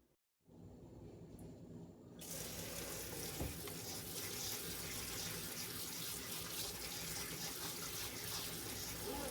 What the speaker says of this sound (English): My first step is to rinse my okra off